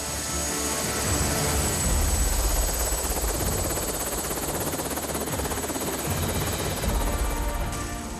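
A mountain rescue helicopter lands after an injured hiker's rescue, its rotor and engine giving a loud, steady, close roar that lasts throughout with no voices.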